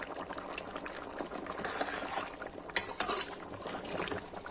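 Beef trotters simmer in a pot over a slow flame, bubbling steadily and softly, with a brief metallic clink of cookware partway through.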